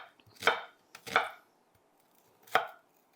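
A knife chops food on a cutting board in three distinct, close strokes, two in quick succession and one after a pause, with quiet in between.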